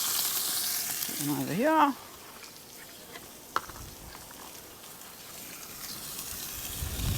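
Onions fry in a pan for lamb shanks, a steady hiss and sizzle running throughout, with a short bright squeak near the start and a clunk midway, and a voice speaking briefly.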